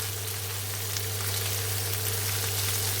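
Onions frying in a pan for bhindi gosht give a steady, dense sizzle that holds evenly throughout, close and moderately loud with no talk over it.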